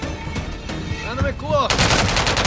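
Gunfire in Call of Duty: Modern Warfare III, with single shots early on and a loud dense automatic burst near the end, under in-game voice chatter.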